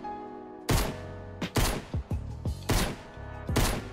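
Pistol shots from an online shooter game, in a 1x1 build fight: a series of about six sharp, loud blasts in an irregular rhythm, each followed by a short ringing tail, with no voices over them.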